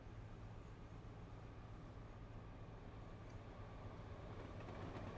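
A low, steady rumble of a Class 60 diesel locomotive rolling past in Train Simulator Classic, a continuous engine drone with a persistent low hum throughout.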